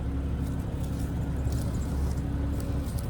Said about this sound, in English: Definitely gotta let the car run.